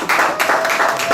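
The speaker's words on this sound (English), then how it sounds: "Give you a hand clap for that." A short burst of hand clapping from a small crowd at a Father's Day gathering lasts just over a second, close and fairly loud.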